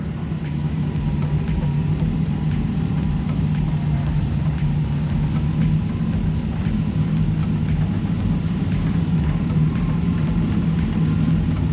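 A Roadster car sets off on a long road trip from Ohio, its engine giving a steady, low, continuous rumble that holds at an even level throughout.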